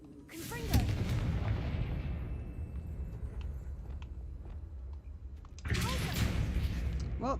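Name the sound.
Confringo spell being cast in the video game Hogwarts Legacy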